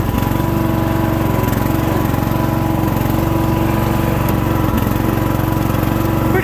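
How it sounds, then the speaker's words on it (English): A Sears Craftsman hydrostatic riding mower with a Briggs 15hp engine runs steadily nearby, a constant, even-pulsed drone with no talking over it. "Pretty quiet mower."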